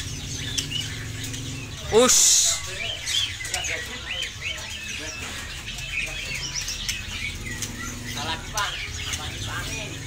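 Caged songbirds at a bird shop chirp and flutter their wings, a sharp burst of flapping standing out near the start amid busy tweets, with people talking and a loud hiss of background noise throughout.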